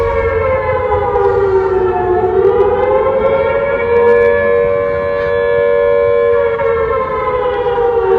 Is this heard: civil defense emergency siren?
yes